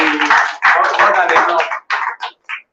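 An audience at a business pitching event bursts into applause, a dense, loud clatter of many hands that breaks into shorter bursts and fades in quick final spurts.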